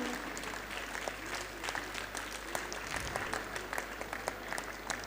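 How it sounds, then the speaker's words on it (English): Children clapping for teachers at a school acknowledgement ceremony: faint, scattered, somewhat distant applause with irregular individual claps over a low background hum. "Please clap for them, children"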